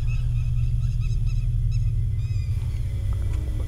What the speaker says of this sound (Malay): Adakah itu bunyi burung?